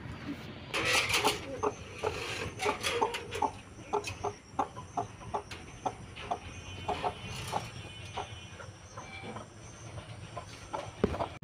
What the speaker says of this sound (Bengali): তো মুরগিটা একটা সমস্যা করছে